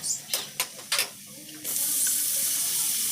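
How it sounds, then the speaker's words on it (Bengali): Spices with salt, turmeric, Kashmiri chilli powder and cumin powder are sautéed in a pan for tilapia kalia: several sharp taps of a spatula, then a steady, fairly loud sizzle takes over and holds to the end. "এর মধ্যে সামান্য পরিমাণে নুন হলুদ কাশ্মীরি লঙ্কার গুঁড়ো জিরের গুঁড়ো সমস্ত দিয়ে মশলাগুলো কষিয়ে নিলাম"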